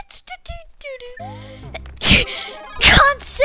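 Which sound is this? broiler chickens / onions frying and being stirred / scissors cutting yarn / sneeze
sneeze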